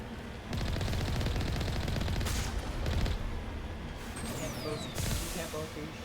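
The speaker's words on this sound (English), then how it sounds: "You can't both be shooting machine gun and firing cannon." Rapid, continuous machine-gun and cannon fire in the Mass Effect video game, sustained for several seconds with heavy booming shots cutting through, followed by a brief whistling streak and another burst.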